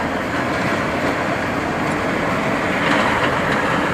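A rice harvesting machine approaches across a jasmine rice field in Surin, Thailand, giving a loud, continuous, broadband engine rumble and mechanical roar that builds slightly toward the end.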